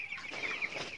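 Several chickens clucking close by in a steady, overlapping chatter, with no talk.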